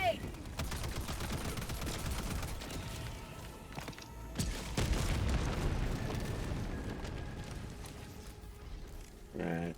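In Helldivers 2, gunfire rattles in dense bursts and a thrown grenade goes off with a heavy blast midway, a loud close fight with a voice briefly breaking in near the end.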